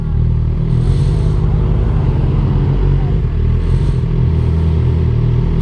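Suzuki GSX-R sport motorcycle engine rumbling steadily at close range, a deep continuous low throb with a loud, even level throughout.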